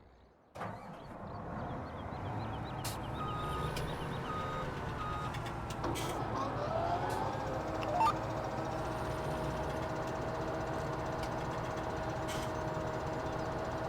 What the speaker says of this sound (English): let's get started mowing here